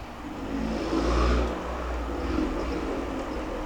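BMW M340i fitted with a big turbo, its engine revving hard with a swelling rush and whine of turbo spool, loud and close throughout.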